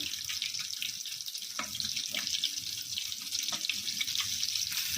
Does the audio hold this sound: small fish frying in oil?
yes